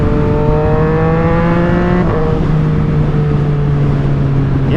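A Triumph Street Triple 765RS motorcycle fitted with an SC Project exhaust drones loud and steady while riding, its engine tone easing slightly in pitch under heavy wind rush.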